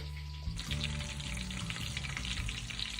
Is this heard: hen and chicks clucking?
no